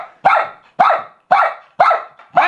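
A dachshund barks five times in a steady rhythm, each bark sharp, loud and close with a short decaying tail and no talking between.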